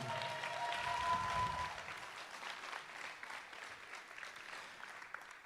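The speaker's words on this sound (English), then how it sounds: "So round of applause for them." Applause from a crowd at a high school softball state championship celebration, honoring school staff, steady clapping at a distance that starts fairly full and slowly thins and fades.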